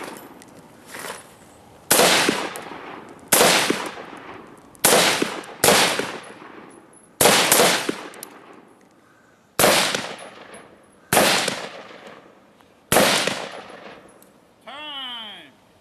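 Eight loud, sharp gunshots ring out one at a time at roughly even intervals during a timed sitting-position shooting drill at a range, each with a short decaying tail, and a brief tonal ringing follows the last shot.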